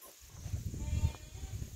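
A few sheep bleat faintly on a farm in Chitlang, Nepal, with short calls rising over a low background murmur.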